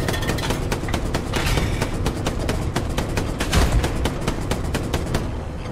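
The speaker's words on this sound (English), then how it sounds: "If you want to machine gun these guys. Machine these guys right to left." Machine gun fire in the World War II shooter game Hell Let Loose, with rapid, sustained bursts of loud, close shots in a dense, continuous rhythm that stop abruptly near the end.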